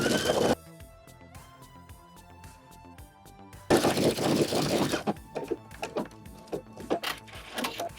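A sewing machine stitches spandex fabric in two loud bursts of rapid, rattling mechanical clicks, separated by a quiet pause with faint background hum.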